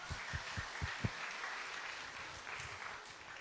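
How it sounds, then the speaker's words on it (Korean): A church congregation at a New Year gathering applauds, a soft, distant wash of clapping with a few sharper claps early on, faint throughout and with no talk over it. "박수 한번 해주세요."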